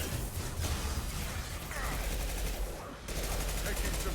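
Sustained gunfire from the Mass Effect 2 Legendary Edition video game, with dense overlapping shots and a short lull, heard under speech.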